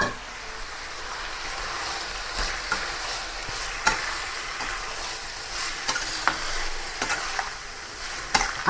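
Fish frying in a home kitchen with rice and salt added, a continuous loud sizzle with irregular scrapes and clinks of stirring, no talking.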